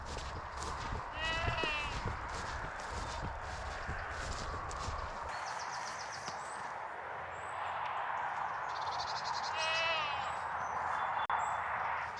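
Sheep bleat a few times, wavering calls standing out over a steady outdoor background with some low rumbling early on.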